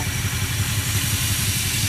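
A 2004 GMC long-bed pickup idles through its exhaust tip, a steady, close, throbbing low rumble with even pulses and no voices.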